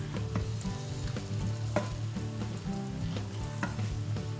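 Vegan black rice with asparagus tips being stirred in a pan, a continuous soft sizzle with irregular scraping and tapping of the spoon against the pan, close and without talk.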